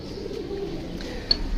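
Pigeons coo softly and low, a brief murmuring call close by amid faint background noise.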